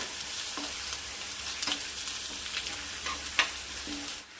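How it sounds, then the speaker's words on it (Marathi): Batter ingredients hit hot oil with a close, steady sizzle that runs throughout, broken by a few sharp scrapes and clinks from stirring. "तेल तापलेलं आहे हे साहित्य आपण एका वेळेसच तेलामध्ये ॲड करायचं आहे"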